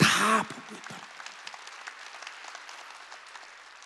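A brief spoken word opens, then a church congregation claps in scattered, fairly distant applause that thins out and fades over several seconds.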